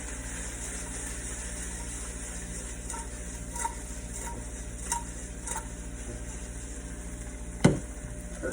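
Onions and aromatics seasoned with herbal salt sizzle steadily in a hot pan, a soft continuous crackle broken by a few faint stirring clicks and one sharper clatter near the end.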